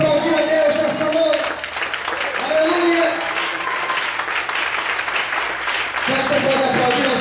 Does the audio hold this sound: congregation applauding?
yes